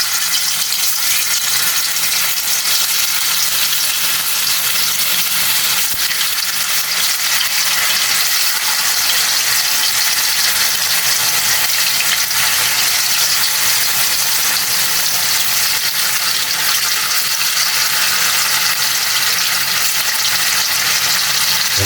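Tofu fries in hot oil with a loud, continuous sizzle and crackle, steady and close throughout, no voices.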